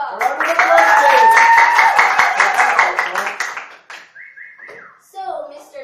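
A small audience gives a round of applause welcoming a guest, brisk clapping for about three seconds with a whistle ringing over it. The clapping then dies away, leaving brief tones and a voice.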